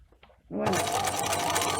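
A sewing machine starts stitching fabric, a steady close whirring run with fast mechanical ticking, preceded by a moment of faint handling noise.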